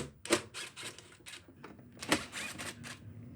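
A hand ratchet or wrench makes faint rapid clicking bursts while removing the top bolts from the cover of a Troy-Bilt TB200 push lawn mower, close up and quiet, with short gaps between bursts.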